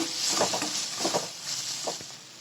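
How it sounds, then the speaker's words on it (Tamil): Tomatoes and cashews are sautéed in a pan for channa masala gravy: a bright steady sizzle with a few bursts of spatula scraping, close and without talk. "இதே நல்லா வதக்கிக்கோங்க."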